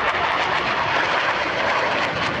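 Romanian Air Force MiG-21 jet fighter at the 2013 Kecskemet International Airshow, producing a loud, steady, broadband roar that stays constant throughout with no voices.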